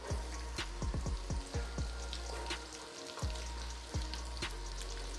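Onion sizzling in hot palm oil in a pot for ogbono soup, a steady close frying hiss with scattered pops and crackles and no talking.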